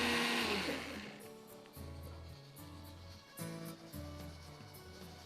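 Close, steady whirring grind of a kitchen blender pureeing onion, ginger, garlic, almonds and coconut into a smooth masala, with the motor note dipping and surging in repeated pulses and no talking.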